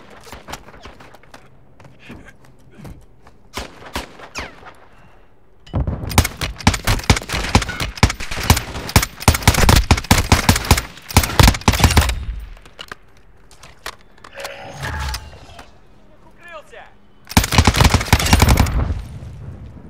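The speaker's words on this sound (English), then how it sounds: "You are taking effective fire." Heavy automatic gunfire in a Call of Duty DMZ match, long rattling bursts and scattered single shots, loud and close, broken by short quieter gaps and a brief radio-style voice.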